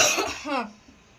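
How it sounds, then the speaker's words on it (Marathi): A woman coughs while cooking mixed dal and rice, giving a short harsh burst followed by a throaty rasp. It is close and loud, then fades to quiet within about a second. "ठसका उठलाय"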